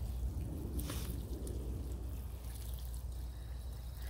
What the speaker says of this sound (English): Water this one in.